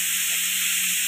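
Tomato, garlic and onion masala roasting in a home-kitchen pan, giving a steady, even sizzle and hiss that holds constant throughout, close and moderately loud with no voices.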